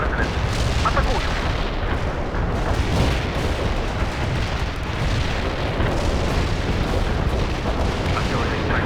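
Artillery strike in World in Conflict, a dense, loud rumble of overlapping booms and explosions rolling continuously for several seconds.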